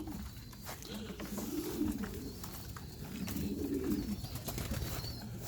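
Pigeons coo repeatedly inside a loft of young racing birds, two drawn-out rolling coos rising over a soft, steady bed of background noise with occasional faint clicks and rustles.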